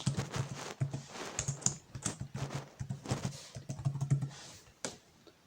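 Rapid typing on a computer keyboard, close and fairly quiet, with irregular clusters of key clacks continuing steadily throughout and no voices.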